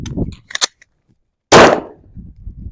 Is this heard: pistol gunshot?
yes